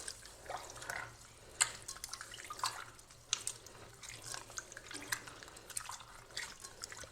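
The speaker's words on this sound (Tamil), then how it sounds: "புளி சக்கையெல்லாம் எடுக்காமல் அப்படியே கரைச்சி இதிலே விட்டுறணும்." Dissolved tamarind water poured into a pot of rasam, soft, faint dripping and trickling liquid with light splashes and occasional clinks, fairly steady throughout.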